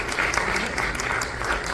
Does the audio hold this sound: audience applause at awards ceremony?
yes